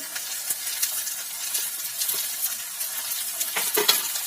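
Finely chopped cabbage is stir-fried for street-style veg chowmein. It gives a continuous bright sizzle, with light stirring scrapes throughout and a clatter of utensils near the end. No one speaks.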